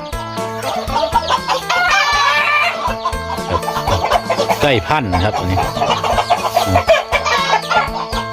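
Farm chickens in Thailand cluck in a loud, constant chorus, and a rooster crows out above them; someone speaks briefly over the birds.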